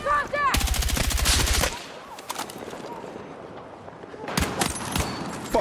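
Rapid automatic gunfire and sharp sniper shots ring out in a video game firefight, loud and close. A dense burst at the start is followed by a quieter gap and then more shots near the end.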